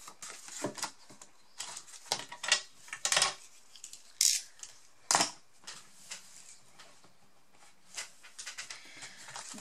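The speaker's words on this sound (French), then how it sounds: "je vais couper, essayer de couper ce qui dépasse." A craft knife trims excess paper from the edges of a 21x15 cm mini scrapbook album, producing a series of short, crisp scraping and clicking cuts in irregular bursts, close and moderately loud, with no talking.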